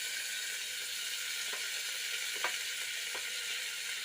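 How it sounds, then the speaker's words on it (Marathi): Tomatoes sizzle in a hot pan while khichdi is cooked, a steady close hiss of frying with a few brief stirring scrapes breaking through, no talking. "आता माझी मुलगी टाकून घेणार आहे टोमॅटो"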